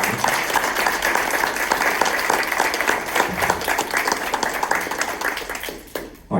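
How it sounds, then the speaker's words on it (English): Audience applause for a speaker at a diversity lecture event, dense steady clapping from a crowd that carries on evenly and then tapers off abruptly near the end. "Let's give a round of applause to Dr. Terry Lamar."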